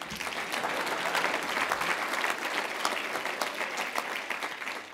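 Sustained applause from a seated audience at a community leaders breakfast honoring Dr. Martin Luther King Jr., a steady wash of many hands clapping for five seconds without speech.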